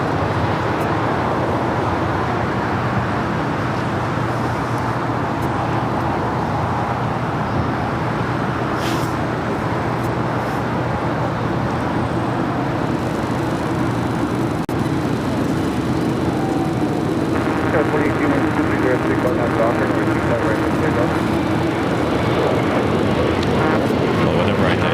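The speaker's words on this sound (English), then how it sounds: "Next takeoff here on the south side, Spirit Airlines Flight 478 heading to Baltimore in an" A Spirit Airlines A321neo jet takes off from the south side runway at LAX, a loud continuous engine roar that swells and holds for the whole stretch, mixed with general road and airport traffic noise.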